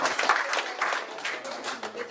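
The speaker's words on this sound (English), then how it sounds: "another applause for hosting us here." Audience at a fintech meetup applauding, a dense steady wash of clapping from a room full of people lasting the whole moment, fairly close and even, with a voice briefly over it.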